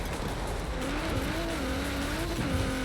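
A fast car in the racing game Forza Horizon 4 revs hard under steady acceleration, its loud, close engine note climbing in pitch, briefly dipping, then pulling on, with no talk over it.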